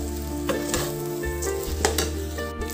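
Rice sizzles steadily in a hot pan of oil with cardamom for pulao, with a few sharp scraping stirs of a spoon breaking through the continuous frying hiss; close and moderately loud, no talk.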